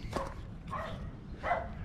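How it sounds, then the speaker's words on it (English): Dogs bark a few times at a distance, three short separate barks over a faint outdoor background. "that's the dogs."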